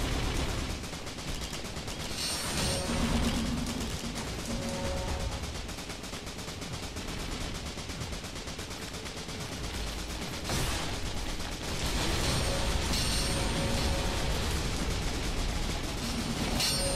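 Fireworks item going off in the Risk of Rain video game, a dense run of crackling pops and bursts that swell, ease off and swell again, loud and continuous over the game's music.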